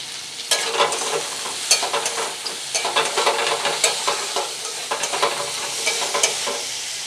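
Ingredients for fried rice sizzle and fry in a hot wok while a utensil stirs and scrapes through them in repeated bursts, close and steady, with no talking.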